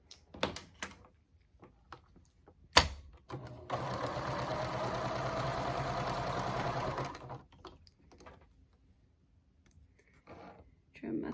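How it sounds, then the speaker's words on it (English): A sewing machine stitching fabric runs in one steady whirring burst for several seconds, close by, framed by scattered clicks and handling noises before and after. "I'm going to take that over to the sewing machine and just sew on those little diagonal lines."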